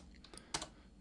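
A few soft, quick keystrokes as a number is typed on a computer keyboard, faint and close, ending with one slightly louder tap.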